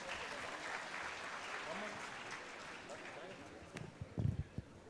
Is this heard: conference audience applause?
yes